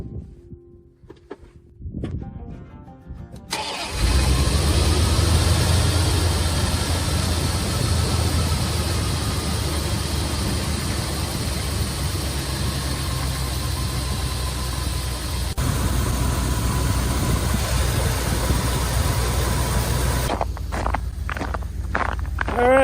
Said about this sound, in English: we're going to let that truck run for a little while